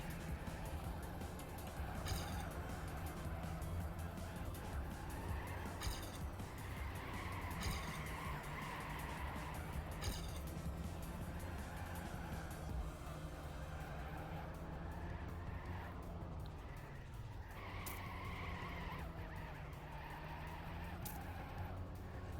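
Race cars in the TrackMania video game run a track with steady engine drone, shifting tones and tire skids throughout, loud and continuous with faint commentary underneath.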